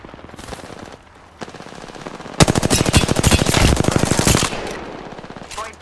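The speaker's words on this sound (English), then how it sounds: "They spotted me. I'm taking shots." Rapid automatic gunfire in the video game Apex Legends, a few short bursts, then a loud sustained rattling stream of shots that fades out, with a last brief burst at the end.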